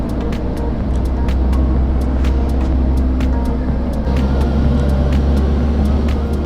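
Toyota Hilux four-wheel-drive pickups rumble steadily along a paved mountain road into jungle in Thailand, a loud continuous engine and road drone with faint rattles ticking throughout.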